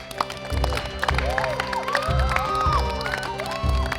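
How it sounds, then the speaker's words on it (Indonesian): A small group claps and cheers for a youth football team after a friendly-match win, the patter of hands mixed with shouts and bright voices over steady crowd noise. "Tepuk tangan dulu buat kalian."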